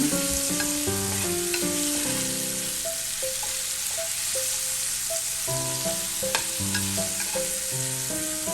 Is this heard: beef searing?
yes